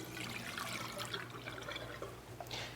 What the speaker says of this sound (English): She's probably going to tell you to pour it into the sink